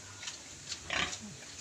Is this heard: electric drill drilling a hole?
no